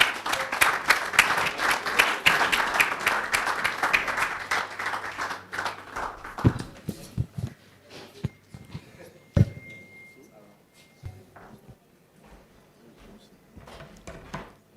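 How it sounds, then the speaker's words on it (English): An audience at a media showcase event welcomes Honorable Shina Pella with loud, dense applause that slowly dies down into a few scattered claps over several seconds. "with a clapping ovation, let's make welcome Honorable Shina Pella"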